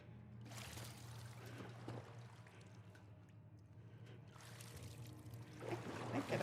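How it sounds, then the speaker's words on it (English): Splashing footsteps wading through shallow water in The Last of Us Part I, a steady run of sloshing steps close by, swelling louder toward the end, with a low ambient hum underneath. "I know I'm not exactly being sneaky because I am walking through water"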